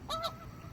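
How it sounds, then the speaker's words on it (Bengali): Two quick honks from a white goose, faint and somewhat distant over a low background hum at a lake, then quiet. "দেখি না হাঁস এইভাবে ডাকে"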